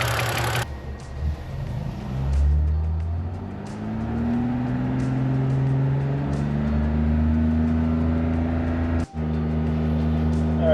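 A BMW engine idling after a hydraulic lifter bleed procedure gives a steady close rumble with a slowly rising tone and a faint ticking that fades, with a short drop near the end.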